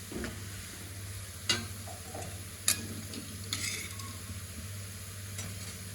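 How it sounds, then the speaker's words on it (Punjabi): Onions sizzling in a pan with garlic as the base for mustard greens saag, a steady soft frying hiss close by with occasional clicks and taps of a utensil. "ਹੁਣ ਆਪਾਂ ਪਿਆਜ਼ ਭੁੰਨਾਂਗੇ"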